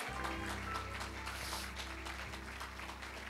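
A church congregation applauds steadily, a dense, continuous patter of many hands over low sustained tones, at an even level throughout with no voices standing out.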